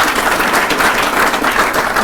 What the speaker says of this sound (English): So please give her a round of applause as well.